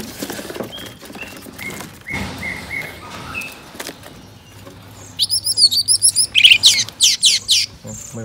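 Young magpie-robins and white-rumped shamas chirp in a quick series of sharp, high calls close by, with faint chatter and handling noises before them.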